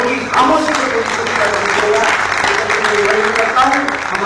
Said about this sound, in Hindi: एक बार तालियां बजा के इस हॉल की खामोशी को